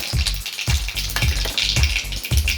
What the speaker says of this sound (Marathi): आता आपलं छानपैकी तेल गरम झालेलं आहे. तेलात जाणार ही मोहरी